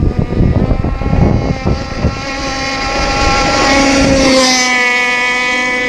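A ZippKits Vbox Cracker Box RC boat runs on water with a loud, high, droning engine whine and splashy chop at first, then settles into a steady buzzing tone as it moves along.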